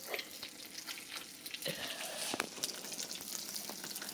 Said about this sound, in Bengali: এদিকে আবার মাছ ভাজতেছে